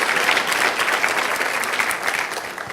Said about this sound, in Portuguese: Salva de palmas para Jesus por isso.